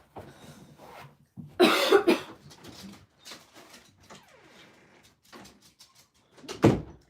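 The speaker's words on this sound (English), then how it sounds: "I don't know why I'm coughing." A couple of harsh, loud coughs stand out amid quieter room noises, followed later by another sharp cough, with some soft shuffling and clatter between.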